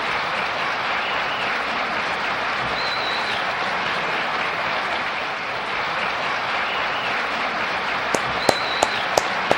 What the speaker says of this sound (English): Here's a round of applause.